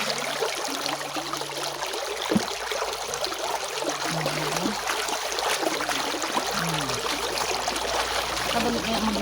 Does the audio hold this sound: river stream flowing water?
yes